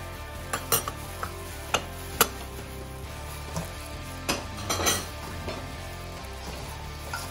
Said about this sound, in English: Tablespoon of mayonnaise and then let's mix.